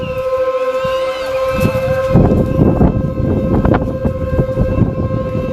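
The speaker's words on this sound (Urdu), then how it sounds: "سائرن یہاں پر بھی بج رہا ہے، دیکھیے سن لیجیے آپ" A siren sounding from a mosque to announce the sighting of the moon, a loud sustained tone that holds steady over a busy rumbling background throughout.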